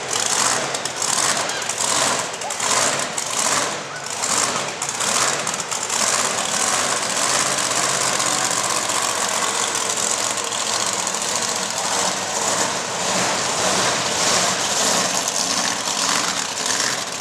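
Monster truck engine at a truck nationals show, a loud, continuous rough rumbling idle with knocking pulses early on, steady and close throughout.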